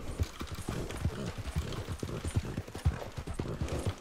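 Steady clip-clop of horse hooves at a walking pace in the video game Red Dead Redemption 2, close and rhythmic, with faint background ambience.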